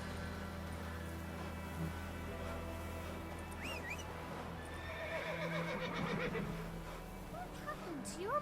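A ridden horse in The Witcher 3 video game whinnies a few times amid soft hoof clip-clops, with a voice talking over the steady in-game ambience.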